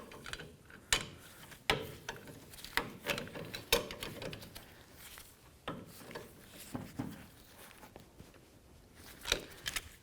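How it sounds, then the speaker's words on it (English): Pliers tighten the jam nut on an outer tie rod of a 2007-or-later Toyota Tundra, giving faint, irregular metallic clicks, scrapes and ratcheting grinds up close, with quiet pauses between turns. "For me personally, I'm just going to use these pliers,"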